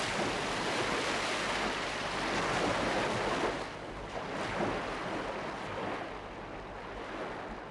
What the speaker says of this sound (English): I'm gonna just play the sound of the sea waves, and I'm gonna make it going far away.